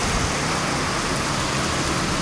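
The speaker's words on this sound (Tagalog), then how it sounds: "Napakalakas ng ulan dito." Heavy rain pours down in a steady, dense roar, loud and continuous with no pauses and no voices.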